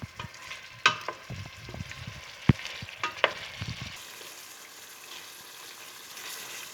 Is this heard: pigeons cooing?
no